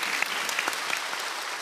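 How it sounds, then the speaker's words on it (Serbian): A TV studio audience applauds, a dense, steady wash of clapping that fills the whole moment at fairly loud volume with no pauses. "Molim jedan aplauz za Miljanu."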